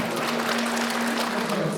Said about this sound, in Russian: Давайте подарим 11 Д-классу наши аплодисменты